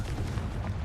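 Confringo blasting-spell explosion in Hogwarts Legacy: a dense, rumbling boom that fills the short moment with low-end energy and sustained crackle, loud and close, without any talk.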